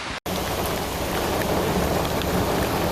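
Heavy rain pours down in a dense, continuous hiss, loud and close, with no voices over it, during a flash flood with a flooded road.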